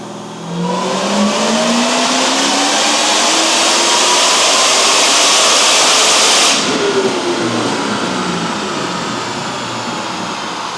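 A loud Corvette ZR1 engine with its exhaust mufflers closed revs up sharply and holds a high, roaring pitch, then drops off and idles down, close by and alone.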